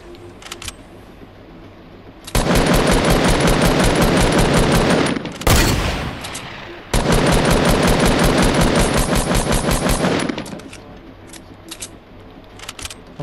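Rapid automatic gunfire in the Fortnite Battle Royale video game on PS4, two long, loud sustained bursts separated by a short break, with scattered single shots before and after.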